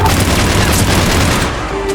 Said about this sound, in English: I just got flashbangs.